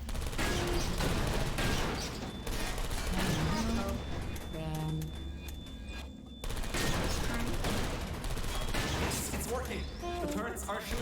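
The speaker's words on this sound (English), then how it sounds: "The turrets are shooting the server good." Automated turrets in the video game Portal Story: Mel firing rapid bursts of gunfire, dense and sustained across the clip with a brief lull midway, mixed with game effects and a voice speaking over it.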